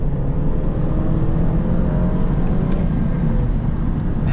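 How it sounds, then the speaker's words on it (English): A used 2017 car accelerates, heard as a steady low engine and road rumble with a faint rising tone, recorded from inside the vehicle with no talking. "that's just consistently good acceleration"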